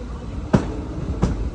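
Poorna Express train rolling slowly into Madgaon station, a low rumbling drone with two sharp, evenly spaced clanks of wheels over rail joints about two-thirds of a second apart.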